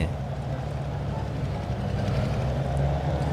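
A Giga truck hauling a soil trailer in Farming Simulator 19 gives off a low, steady engine drone, close and continuous, with a constant deep hum and no clear changes in revs.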